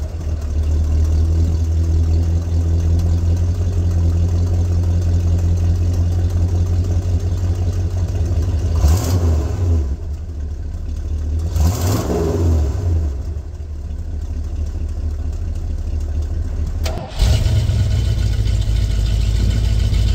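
A stock-exhaust Ford truck idles with a loud, steady low rumble close by, then revs twice, the engine pitch swelling and falling each time, before settling back to idle.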